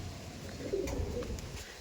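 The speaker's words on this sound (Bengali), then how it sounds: "এই দেখুন পায়রা দেখুন" Soft, low cooing of pigeons, a few murmured calls close by against a quiet background.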